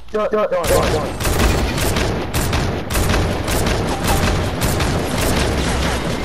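Dense, continuous gunfire from a Fortnite Battle Royale match, rapid loud shots layered into a steady barrage after a brief opening, with talking mixed in.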